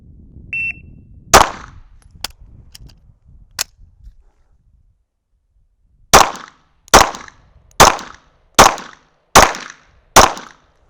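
Sharp, loud pistol gunshots at outdoor target practice from roughly 12 to 15 yards: a single shot and a few fainter cracks, then after a pause six evenly spaced shots in a steady rhythm, each with a short echo tail.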